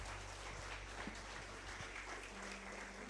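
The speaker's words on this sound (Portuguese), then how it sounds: "Você pode aplaudir a Jesus." A church congregation claps steadily through a hushed, reverberant hall, a low continuous hum running underneath the soft, diffuse applause.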